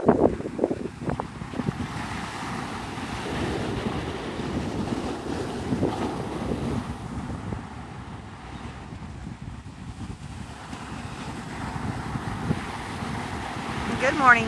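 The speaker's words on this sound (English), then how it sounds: "as the hour goes, it's probably gonna get to the point where the wind is unbearable." Wind gusts across a beach at sunrise, roaring and buffeting the microphone, with surf rumbling underneath; the blustery noise rises and falls close-up throughout, and voices occasionally mix in.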